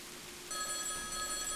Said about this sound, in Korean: 2층에서 전화벨 소리가 울려왔습니다.